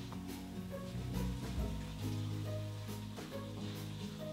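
Fat sizzles in a pan while stuffing is prepared for a Christmas stuffed chicken, a steady faint crackling hiss beneath soft background music.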